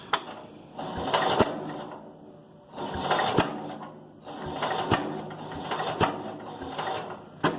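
Cub Cadet 107 garden tractor engine with a generator installed, idling unevenly in surging bursts with sharp pops of backfire punctuating the mechanical clatter, close and fairly loud with no talk.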